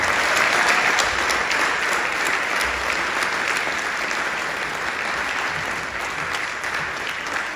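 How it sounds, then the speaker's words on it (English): A large audience at a Stanwood High School Veterans Day assembly gives sustained, dense applause honoring veterans, a steady wash of many hands clapping that fades slightly toward the end. "can we all give one big round of applause for all the veterans that came before us and served so selflessly"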